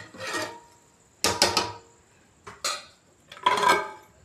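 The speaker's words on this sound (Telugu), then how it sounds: "వేసిన తర్వాత కలుపుకుందాం" Rice and water stirred in a pot while cooking biryani: four separate scraping, rubbing strokes of a utensil against the pot, close and fairly quiet, with short pauses between them.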